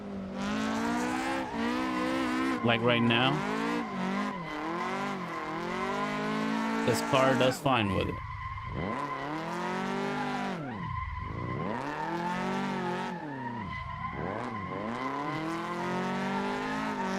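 A car drifting with the flick method in the racing video game Assetto Corsa 2, engine revving and wavering up and down while tires squeal through long slides, loud and continuous under someone talking.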